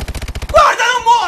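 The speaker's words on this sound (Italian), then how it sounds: "avete visto quanti colpi ho sparato a sto figlio di puttana" Rapid automatic gunfire in Call of Duty Advanced Warfare, a quick burst of about eight close, evenly spaced shots, followed by someone talking.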